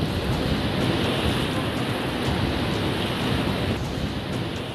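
Floodwaters in Gujarat after heavy rain make a steady, loud, broad rushing roar of churning water and wind that stays constant throughout, with no voices.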